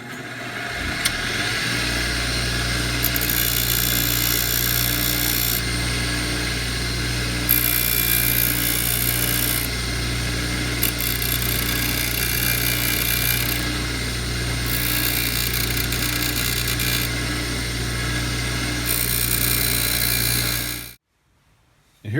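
A grinding wheel shapes the neck of a cigar box guitar, a steady motor hum with a continuous high abrasive hiss that pulses in regular waves, close and loud, then cuts off abruptly near the end.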